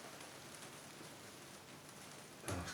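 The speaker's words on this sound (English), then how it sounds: "we might be going to get some more rain because it's noisy on the roof" Rain drumming on a roof makes a steady, dense patter that fills the whole stretch, with a slightly louder gust of drops at the end and no voices.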